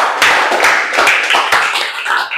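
A group claps in a leadership training class, a few quick bursts of hand claps, close and loud, uneven and brief rather than a sustained ovation.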